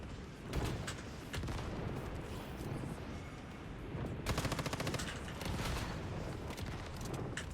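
Shotgun loaded with steel ammo firing in the survival game Once Human, a string of sharp blasts over other rapid gunfire and a dense, noisy battle mix, fairly close and loud.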